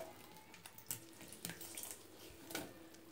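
Soy chunks washed by hand in a vessel of fresh water, with faint splashing and swishing, small sloshes and light clinks, and no talking.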